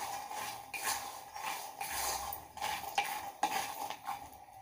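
Peanuts dry-roasting in a pan give a steady, busy crackle and scrape of stirring, close and continuous with irregular pops and no voices.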